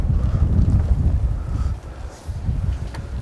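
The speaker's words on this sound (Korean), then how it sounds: "생각보다 바람이 지금 너무 많이 부네요." Strong wind gusts at a fishing spot at Gomaji in Buan, where a tied-down parasol is spinning. A loud, steady, rumbling roar buffets the microphone throughout, with no one talking.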